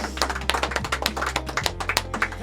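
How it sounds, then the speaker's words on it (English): A small group clapping for a radio station's tenth anniversary on a live show; sparse, uneven handclaps, fairly close, with a low steady hum underneath and no talk. "let's give Radio Lex a big round of applause"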